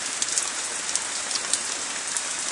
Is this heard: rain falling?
yes